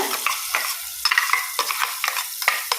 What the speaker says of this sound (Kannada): ಮಸಾಲವನ್ನು ಇದಕ್ಕೆ ಹಾಕಿ ಸ್ವಲ್ಪ ಹೊತ್ತು ಜಾಸ್ತಿ ಫ್ರೈ ಆಗಬೇಕು